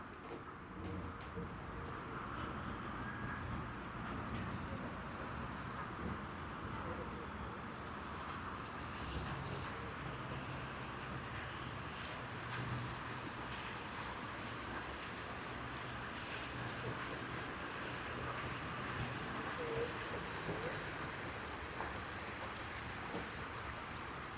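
A free punt ferry crossing the Yarra River to Herring Island in Melbourne, a faint steady wash of water and wind rumble with no clear engine note.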